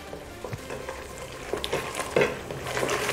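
Curry paste hitting hot oil in a pan for a Panang curry with short ribs, a brief steady sizzle broken by a few stirring scrapes and louder spattering bursts, close up with no talking.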